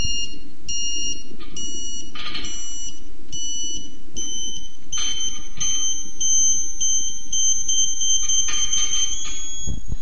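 Satellite dish alignment meter for a Ka-Sat internet antenna, beeping in short high-pitched pulses that quicken and finally merge into a continuous tone as the azimuth screw is adjusted, clear and close over a low background rumble.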